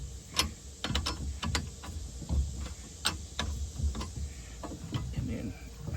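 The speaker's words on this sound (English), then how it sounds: "I'll just loosen these bolts here" Metallic clicking and ratcheting from a wrench loosening nuts, in irregular close ticks with a voice talking over them.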